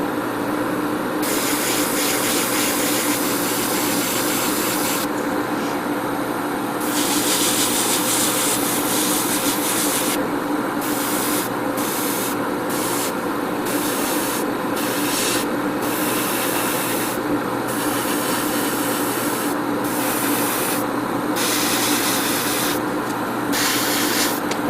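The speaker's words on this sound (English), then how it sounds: "I'm going to definitely have to spray a little bit more." A steady hiss of spray paint on a plastic model kit runs continuously, cutting in and out in short bursts, close and fairly loud, with no voices.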